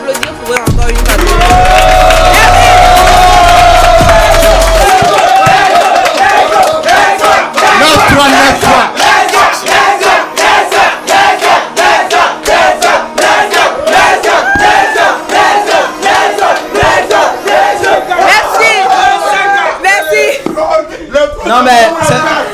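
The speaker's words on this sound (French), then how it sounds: "Est-ce qu'on peut applaudir pour eux encore une fois?" A crowd at a French rap battle between Big Negzo and Leska applauds and cheers loudly, with shouts and whoops rising over sustained clapping and voices calling out throughout.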